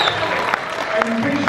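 A crowd at a horror fan convention claps for a metal album, with brisk, steady applause filling the room, loud and close, some voices mixed in.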